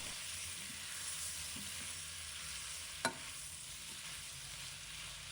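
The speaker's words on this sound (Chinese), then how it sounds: "开大火翻炒一下，把所有食材炒至入味" Chinese yam sizzles as it is stir-fried over high heat, a steady close hiss running throughout with faint tosses and a single sharp clink of utensil against the wok partway through, no voices.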